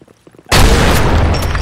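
A grenade explodes in the online shooter BlackShot, a sudden loud close blast after a moment of near quiet, followed by a heavy rumbling tail.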